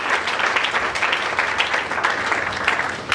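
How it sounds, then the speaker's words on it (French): Loud, sustained applause and cheering from a church congregation, dense and continuous throughout with no pauses. "Est-ce qu'on peut acclamer très fort?"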